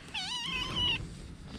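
A small kitten gives one drawn-out, rising and falling meow at close range, loud and clear over a quiet indoor background, with no talking.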